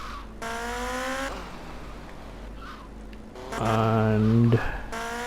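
Motorcycle engine in GTA Vice City, revving in bursts with rising and falling engine tones, a louder rev toward the end, heard amid game background noise.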